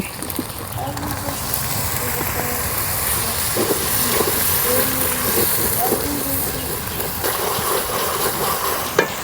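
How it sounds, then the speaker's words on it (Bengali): Water is poured over spice paste frying in a pan for a beef and green banana curry, producing a continuous loud hiss and bubbling sizzle with stirring, while a voice speaks intermittently. "মশলা কষানোর জন্য দিয়ে দেব পানি।"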